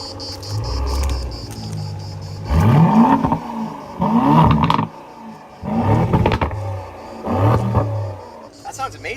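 An Aston Martin DB12 with its exhaust valve open revs four times in rising bursts, each blip ending in crackling pops, close and loud, with voices talking in between.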